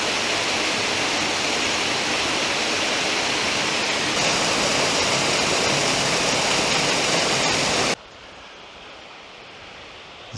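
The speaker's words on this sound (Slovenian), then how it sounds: "Izgleda, da je tole pot do slapu." Mountain waterfall along a hiking trail near Spodnja Idrija, a loud, steady roaring rush of falling water close by that cuts off abruptly, leaving a quieter hiss.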